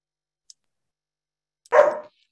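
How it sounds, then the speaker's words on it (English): Puppy barking, one short sharp bark close to the microphone after near silence, preceded by a faint click. "My puppy is just barking her head off right now"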